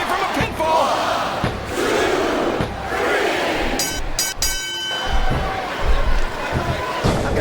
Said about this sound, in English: this crowd can't get enough of it